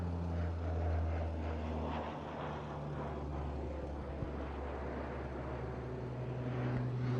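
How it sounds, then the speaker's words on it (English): Firefighting aircraft, a skimmer and a retardant jet, fly over a wildfire near Peachland, giving a steady distant engine drone that swells slightly and stays at a low level for several seconds. "Here comes another skimmer, followed by the retardant jet going down the same line."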